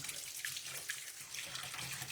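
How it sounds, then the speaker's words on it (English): Tap water running steadily over hands being rinsed of sticky berry juice at a kitchen sink, a continuous close splashing wash with no talk. "Hold on, I have to rinse my hands."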